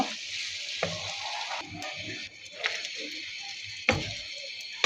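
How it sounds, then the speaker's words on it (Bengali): Dried loitta fish frying with spices in a pan gives a steady bright sizzle, broken by a few sharp scrapes and stirring knocks, close by with no voices. "কিছুটা সময় ধরে ভেজে নিব। নেড়ে ছেড়ে মশলাটা মিশিয়ে নিব।"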